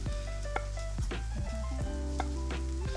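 Chianti red wine reduces in a pan, a steady sizzling and bubbling that runs continuously, close and fairly loud, with clinks and scrapes of cookware on top; no one speaks.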